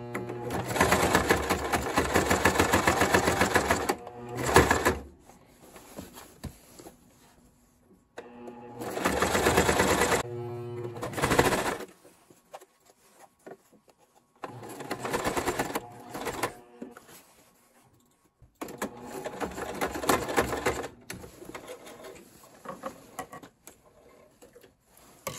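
A sewing machine stitches the hem of a pair of overalls in several steady runs of fast mechanical whirring, broken by short pauses. The machine is close and fairly loud.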